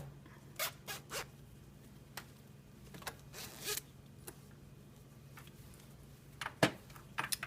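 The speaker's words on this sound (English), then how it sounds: "I'll unzip it here so we can see the other side." Zipper on a sweatshirt being unzipped close by, with several short rasping bursts and quiet pauses between them against a faint steady hum.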